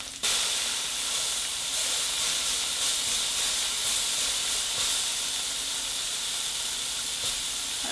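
A patty for loco moco frying in a hot pan, giving a steady, even sizzling hiss close up that holds without pause for several seconds, with no talking.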